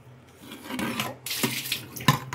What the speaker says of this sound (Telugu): తర్వాత మళ్ళీ నీళ్ళు పారబోసుకొని